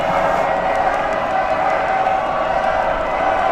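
Crowd noise at a high school football playoff game between Roosevelt and Seattle Prep, a steady broad roar of cheering and chatter that holds at an even level throughout, with no single clear shout standing out.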